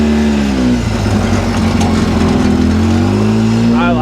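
A Polaris RZR 800S revs hard on a driveway: a loud, close engine whose pitch climbs and sags in steady pulls, then rises sharply again at the end.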